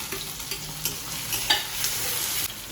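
Potatoes, peanuts, cumin and curry leaves fry in hot oil with mustard seeds, a steady close sizzle broken by light scraping stirs and a few sharp pops. No one speaks.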